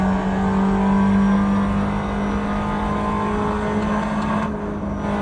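A 2010 Tatuus FA01 single-seater race car in Assetto Corsa runs flat out in fifth gear on the Pikes Peak hill climb, a loud, steady engine drone that holds its pitch with a brief dip near the end.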